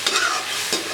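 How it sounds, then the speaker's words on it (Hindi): Chicken liver and gizzard curry (kaleji pota salan) simmers over a low flame, giving a soft steady sizzle with a couple of brief stirring scrapes, close and moderately loud, no voices. "अब हम इसको हल्की आंच पे पकने देंगे तकरीबन 10 मिनट।"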